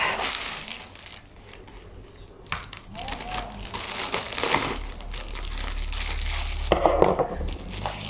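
Close, busy crinkling and crushing as a cardboard package of books is opened with scissors. Irregular rustles and tearing build louder toward the end, with a few sharper crackles, and there is no clear speech.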